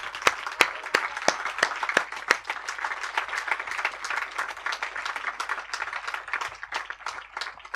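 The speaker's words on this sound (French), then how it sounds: "lève-toi et acclame très fort notre Dieu" A church congregation at a Sunday service applauds and acclaims God, a lively mix of many hands clapping with sharp, prominent claps from close by over a sustained crowd clatter.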